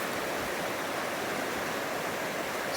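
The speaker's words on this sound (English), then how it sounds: "Man, the creek's much wider up here." A swift creek about 40 feet wide flows in a steady, full broadband rush of water, loud and close, continuous throughout with no voices.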